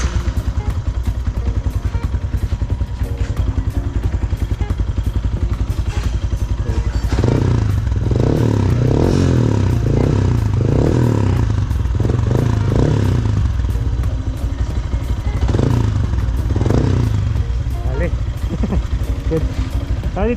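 A Sniper 155 motorcycle fitted with a kalkal exhaust pipe idles and then revs in loud repeated bursts, each throttle blip followed by a rough, popping exhaust note, with voices talking nearby.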